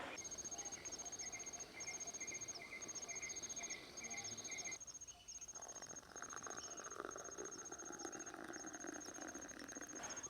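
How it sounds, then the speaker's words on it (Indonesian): Night insects in a rural village setting chirp steadily throughout, with a sharp high-pitched squealing call repeating in rapid bursts over a dense buzzing background, shifting to a rougher broadband chorus partway through. "Suara bunyi hewan tuh aneh-aneh ya."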